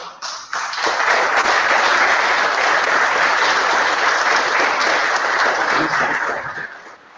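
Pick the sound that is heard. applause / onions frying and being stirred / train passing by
applause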